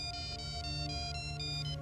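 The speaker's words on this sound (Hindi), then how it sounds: "कावेरी का फोन आ रहा है।" A mobile phone ringtone plays a repeating electronic melody in steady phrases, fairly loud and close, with a low hum beneath and no talking.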